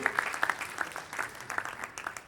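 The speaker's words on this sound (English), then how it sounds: "please put your hands together for that short film" Scattered audience clapping after a short film screening at a film awards ceremony, sparse and fairly faint, with individual hand claps standing out over a soft background.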